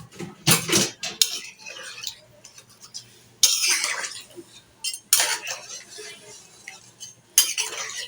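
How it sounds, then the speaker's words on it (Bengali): A vegetable curry with green chillies stirred in a pot, with repeated scraping and clattering strokes of a metal spoon against the vessel in irregular bursts, close and fairly loud, with no talk. "এখন নেড়ে চেড়ে আরো কিছুক্ষণ রান্না করে নেব।"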